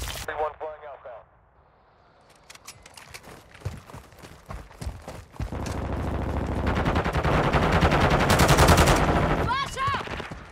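Rapid automatic gunfire in a shooter video game, sharp cracks building into a loud sustained burst, with radio-style voice callouts heard over the shooting.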